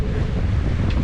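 Wind rushes across the microphone while sailing at sea in about 10 knots on a beam reach, with a steady loud roar and wash of water close by.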